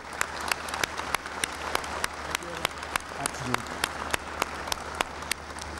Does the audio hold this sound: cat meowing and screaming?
no